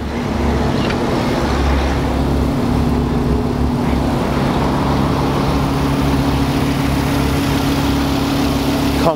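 A 2017 Audi R8 V10 coupe engine runs steadily at idle, a continuous low rumble with a constant hum, close and loud with no talking.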